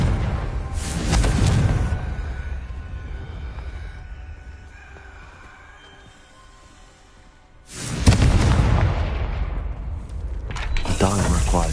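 Two fiery Confringo spell blasts from the Hogwarts Legacy game burst out loudly, one early and a bigger, rumbling one later, with a game voice speaking in the quieter stretch between.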